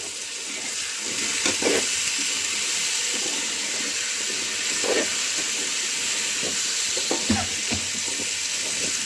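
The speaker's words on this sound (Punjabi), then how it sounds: "ਆਲੂ ਚੰਗੀ ਤਰ੍ਹਾਂ ਹਿਲਾ ਲਾਂਗੇ" Potatoes frying in a pan for a dry potato and fenugreek dish, a steady hissing sizzle broken by a few soft scrapes as they are stirred.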